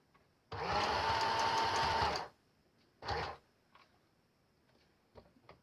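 Sewing machine stitching a strap closure for an accordion art journal, one loud sustained run of about a second and a half followed by a short second burst, then quiet with faint handling clicks.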